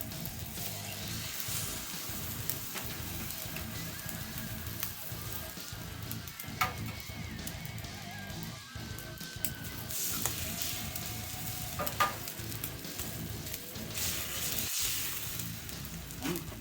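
Eggs frying on a hot flat-top griddle while making fried rice give a steady, dense sizzle close by, with occasional scraping and tapping of a spatula, and no talking.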